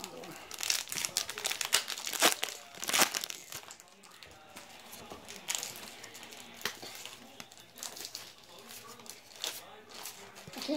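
Plastic wrappers of Topps Walking Dead Evolution trading card blaster packs crinkle and tear open nearby, with continuous rustling and sharper crackling peaks while people talk over it.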